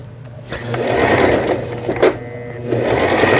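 A Brother Star10 home sewing machine running steadily while stitching decorative patterns, giving a loud, continuous mechanical whir with a rapid needle rhythm, close up and with no talking.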